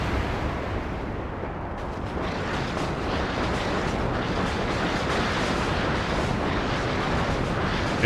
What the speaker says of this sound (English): So we're going to absolutely thrash this area with more rocket artillery.